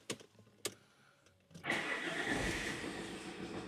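A diesel car engine with a worsening starting fault cranks briefly after a couple of faint knocks, then catches and settles into a loud, steady running note close by, with no talking.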